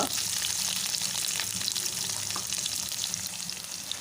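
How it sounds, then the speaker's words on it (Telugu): Chopped onion, curry leaves and green chillies frying in hot oil for an amaranth curry, a steady close sizzle with light stirring scrapes throughout, no talk. "ఈ ఉల్లిగడ్డ కొంచెం ఆయిల్లో ఫ్రై అయిన తర్వాత"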